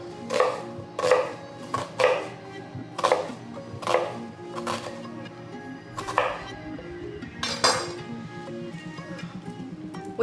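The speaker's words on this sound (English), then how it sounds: "We're gonna slice a small white onion." A knife thinly slicing a small white onion on a cutting board, a steady series of crisp, distinct chops spaced about a second apart, close and clear with no talking.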